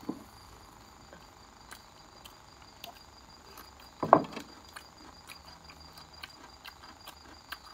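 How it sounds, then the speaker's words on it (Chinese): Crickets and katydids chirp steadily at night in the mountains, a faint continuous high trill with one brief louder knock midway, no voices present. "有点叽叽的声音， 那个是小虫子的声音，"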